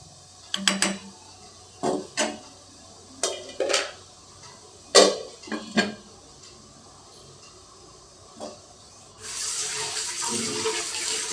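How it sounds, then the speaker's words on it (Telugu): Rice being washed in a vessel, with scattered splashes and knocks at irregular intervals, then a steady rush of running water toward the end, all close by. "ఇక్కడైతే నేను రైస్ కడిగి పెట్టేస్తున్నానండి."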